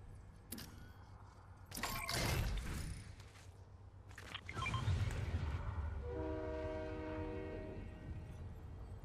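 A train horn sounds inside the Fortnite video game, a short harmonic honk near the end of the clip, following some bumps and rumbling game noise, all played quietly without talking.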